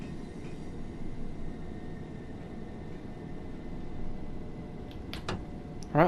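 A Class 377/4 electric train drives between Eastbourne and Brighton in Train Sim World, a steady low cab rumble with a faint whine, then a brief sharp click near the end.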